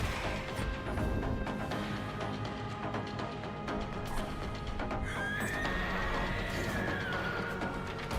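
A horse whinnies in the video game Dragon's Dogma 2, a rising and falling neigh partway through over a dense, steady bed of game noise with scattered thuds and clatter.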